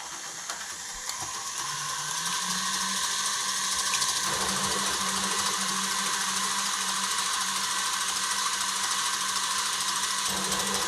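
An electric mixer whips egg whites into froth for Italian meringue buttercream, a steady whirring motor hum that starts up and holds constant, close and moderately loud, with no speech.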